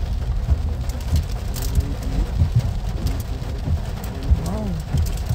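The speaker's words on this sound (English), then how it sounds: "It's raining in Kingston" Steady rain hiss fills the background with scattered drips on Old Hope Road in Kingston, Jamaica, while voices talk over it throughout.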